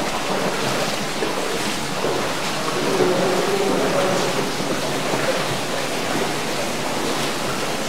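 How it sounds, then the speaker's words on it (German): Water pours into an underground tunnel of an old wartime weapons factory, a constant loud rushing roar that fills the space without pause. "Ja, da kommt das Wasser rein durch die Schütte,"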